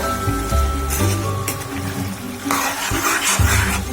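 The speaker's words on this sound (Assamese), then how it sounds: "এইদৰে ভালকৈ আমি লৰাই থাকিব লাগিব" Duck meat frying in oil in a pan while being stirred, with steady sizzling and repeated scraping and clanking of the spoon against the pan, close and loud, no speech.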